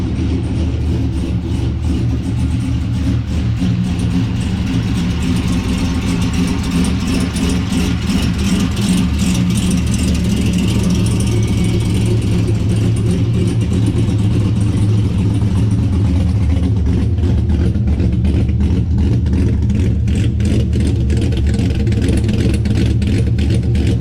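A Chevrolet C6 Corvette V8 fitted with a Texas Speed cam idles loud and close with a choppy, lumpy rhythm that continues throughout, with blips of revving.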